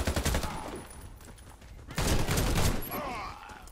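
Gunfire in the shooter game Warface, with bursts of rapid automatic shots in two loud clusters separated by a quieter gap, and faint game effects underneath.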